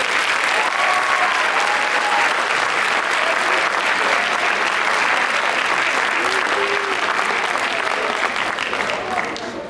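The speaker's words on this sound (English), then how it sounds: "So let's give them a big round of applause." Audience at a school winter concert applauding a student band, a dense, sustained round of clapping from a full hall that carries steadily throughout and tapers slightly at the very end.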